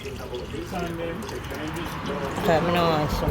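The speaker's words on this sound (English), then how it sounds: "I'm just gonna go ahead now and throw the juice in the pot" Coconut juice pours into a cooking pot in a soft, continuous liquid trickle and splash, heard close under a voice speaking throughout.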